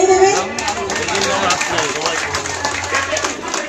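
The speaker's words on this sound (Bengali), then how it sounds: "জোরে হাততালি দেবেন।" A crowd at a village public gathering in Senpur, Pursura, claps loudly and steadily after being urged to applaud an MLA, with dense hand claps mixed with chatter and background voices throughout.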